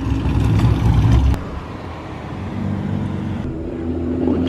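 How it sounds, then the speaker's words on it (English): Chevrolet Camaro engine at a late-night street racing gathering, a loud rumbling rev that drops off after about a second, then a steady lower idle mixed with surrounding car noise. "That Camaro sounds good."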